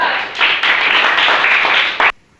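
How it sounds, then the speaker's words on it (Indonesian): A classroom full of students clapping for a presenting group, a dense, loud burst of applause lasting about two seconds and stopping abruptly. "silakan dulu berikan tepuk tangan untuk kelompok"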